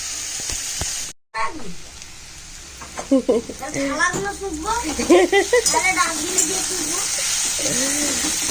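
Masala frying in a pan gives a constant hiss of sizzling beneath close conversational talk, with a brief dropout near the start.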